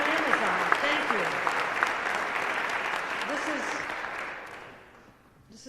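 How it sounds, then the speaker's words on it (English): Applause from a crowd at a school opening event in Syracuse, a steady wash of clapping that fades out near the end while voices carry under it. "Let's give a round of applause to Amazon."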